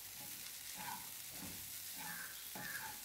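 Squid and grated coconut roasting in a pan, stirred continuously: a steady sizzle and hiss with soft scraping strokes repeating every second or so, close and moderately quiet.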